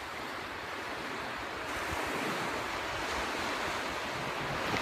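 Ocean surf rolls steadily onto Nai Yang beach in Phuket, a continuous broad wash of breaking waves with some wind rumble, no voices.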